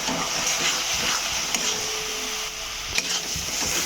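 Ginger, cumin and chili powder go into a sizzling spice paste in a pan for a low-oil egg curry, giving a steady frying hiss with a few light stirring knocks, close and alone.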